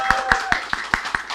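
Hands clap in a quick, even rhythm, about seven sharp claps in under one and a half seconds, close and crisp.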